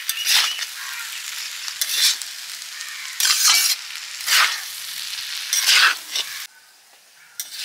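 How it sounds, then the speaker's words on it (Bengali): Chilli chicken with soy, red chilli and green chilli sauces being stirred hard in a frying pan, loud scraping strokes in bursts over a steady sizzle, with a few metallic clinks. "সব কিছু ভালো করে মিক্সড করে নিচ্ছি।"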